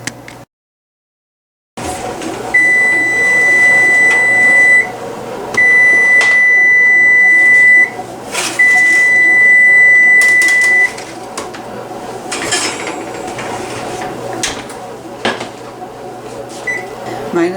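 Three sustained control beeps from a convection oven being set to temperature, each about two to three seconds long with short gaps, loud and close over a faint room hum, followed by quieter handling clicks and knocks.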